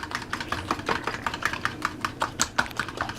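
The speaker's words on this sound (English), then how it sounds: "I'm just stirring that up." An egg mixture for keto French toast is stirred in a bowl, giving quick, rhythmic clinks and taps at a steady pace. The sound is fairly quiet and close, with no talk.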